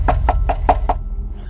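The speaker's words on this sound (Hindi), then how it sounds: "नॉक करने पर ब्रेंडन ने दरवाजा खोला" Five firm knocks land on a house door in an even, quick rhythm, loud and close, followed by a faint brief sound after they stop.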